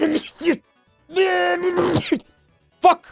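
A single sharp sneeze bursts out among brief spoken exclamations, close and loud, with short pauses between the voices.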